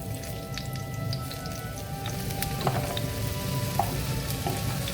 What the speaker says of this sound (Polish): I wrzucamy je na patelnię.